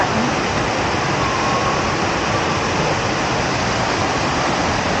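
The Jogini waterfall near Vashisht in Manali sends up a constant, dense roar of cascading water that fills the air evenly throughout, with no voices.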